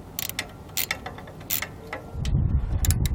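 A wrench tightening a bolt on a MaxxTow MaxxHaul hand winch gives a series of light, crisp ratcheting clicks, then a denser, rougher grinding rattle as the bolt is snugged, close and fairly quiet.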